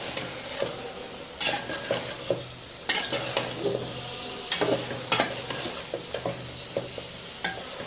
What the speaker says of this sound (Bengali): নাড়াচাড়া করে নিচেরগুলো উপরগুলো নিচে দিয়ে মশলাটা সবগুলো পটল এবং আলুর মধ্যে মিশে দিতে হবে।